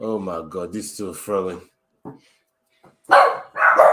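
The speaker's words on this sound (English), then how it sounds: "My dogs are going mad." Dogs barking at home during a UFC London fight watch-along, a couple of loud, harsh barks breaking out right after someone speaks excitedly.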